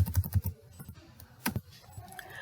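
Clicking keystrokes on a computer keyboard while entering a number into an Excel spreadsheet: a quick run of close, crisp taps, a pause, then a few scattered presses.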